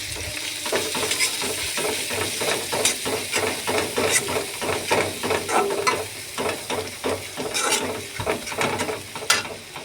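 Chopped garlic, ginger and onion sizzle in oil in a wok, stirred in rhythmic scrapes over a constant frying hiss, close and fairly loud.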